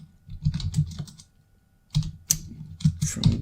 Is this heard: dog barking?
no